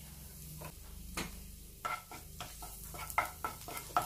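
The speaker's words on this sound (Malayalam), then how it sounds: "ചൂടായ എണ്ണയിലേക്ക് ഒരു കതിർപ്പ് കറിവേപ്പില ഇട്ട് കൊടുക്കാം" Curry leaves dropped into hot oil for a dried shrimp chammanthi, giving a soft crackling sizzle broken by several sharp stirring and clinking hits against the pan, close and fairly quiet.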